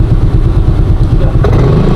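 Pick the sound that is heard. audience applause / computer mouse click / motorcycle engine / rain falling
motorcycle engine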